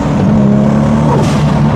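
A 2002 Lexus IS 300 with a fully built 1000hp 2JZ engine swap roars loud and close under throttle, its steady engine drone held without lifting during a flat-foot shift.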